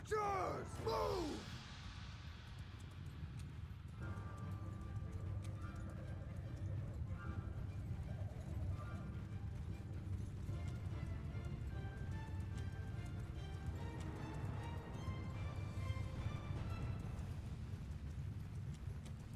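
Horse archers' hooves galloping in the video game Mount & Blade II: Bannerlord, a dense rolling clatter of many horses running together with an occasional whinny, steady throughout and mixed with battle noise and a shouted voice.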